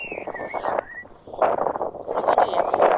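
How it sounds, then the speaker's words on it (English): Gusty wind buffets the microphone at a lighthouse on a coastal cliff above Lobster Head Cove in Gros Morne, Newfoundland, a loud, rough rush that swells after a brief lull, with a faint voice early on. "It's pretty windy up here. Hear the wind?"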